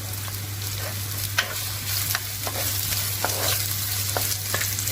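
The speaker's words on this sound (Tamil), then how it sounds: "பிரட்டி விடுங்க, பொரியட்டும்." Onions sizzle in a pan for Sri Lankan style lamb rice while a spoon stirs them, giving an even, close frying hiss with scattered soft scrapes and a low steady hum underneath.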